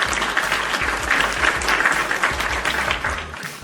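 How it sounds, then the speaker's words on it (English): A crowd applauds in a steady, dense round of clapping at the close of a wrestling podcast, loud and continuous throughout. "Round of applause."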